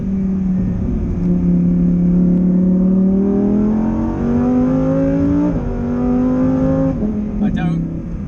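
A Lamborghini Huracán Performante drives on the road, its engine droning loud and near from inside the cabin and rising in pitch through the gears, with a drop at each upshift, as a voice talks over it.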